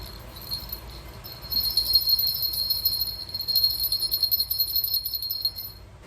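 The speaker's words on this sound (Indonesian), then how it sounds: "saya di sini akan membandingkan suara lonceng di dalam tempat sampah sama di luar tempat" A small bell rung inside a trash bin and then outside it during a school science experiment, giving a steady, bright, ringing jingle that swells louder partway through and stays continuous.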